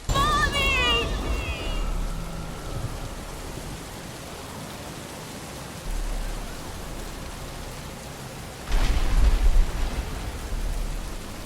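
Rain patters steadily on a stormy night in a Batman Arkham game, with a low rumble of thunder rolling in and a louder crack near the end, while a voice talks over it.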